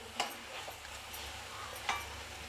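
Ingredients sauté in a pan with a soft, continuous sizzle, punctuated by a couple of light stirring clinks, heard close but faint.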